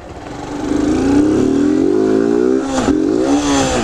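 A motorcycle ridden through a curve on a bumpy road, its engine close and loud, revving steadily with a wavering pitch, then briefly dropping and climbing again.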